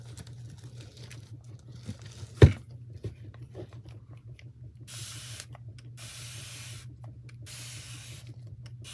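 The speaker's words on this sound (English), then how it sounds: "Maybe I will put a little bit more here and spray it with water," Water is spritzed from a spray bottle onto an acrylic painting in several hissing bursts, each lasting about half a second, with a sharp knock heard earlier over a low steady hum.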